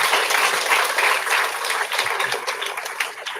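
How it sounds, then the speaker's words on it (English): Audience at a talk on entrepreneurship breaks into a short burst of clapping, a brisk, fairly close crowd applause that swells and ebbs slightly over a few seconds without any speech over it. "please give a clap."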